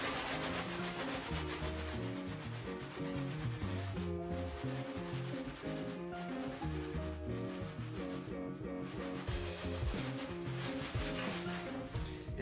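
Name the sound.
dry maple seeds and leaves rubbed together in a bag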